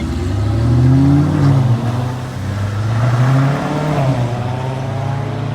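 A Chevrolet Corvette revs on a city street, its engine swelling loudly twice in mid-pitched surges with a throaty drone, heard fairly close without any talk.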